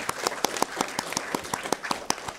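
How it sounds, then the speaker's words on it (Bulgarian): Steady applause from an audience at the Iskri 2023 event, dense rhythmic clapping heard close and continuous for a couple of seconds with no talk over it. "Аплодисменти за Рада!"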